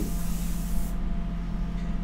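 An airbrush sprays India ink onto paper with a steady, close hiss. The bright upper part of the hiss cuts off about a second in, leaving a softer spray over a low background hum.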